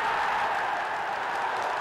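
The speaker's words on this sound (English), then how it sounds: "bringing the crowd to life." A football crowd cheers and applauds at St Mary's stadium during a 2008/09 Southampton versus Charlton Athletic match after a goal, a steady, wide roar sustained throughout.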